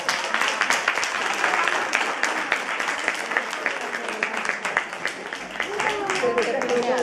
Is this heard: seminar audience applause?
yes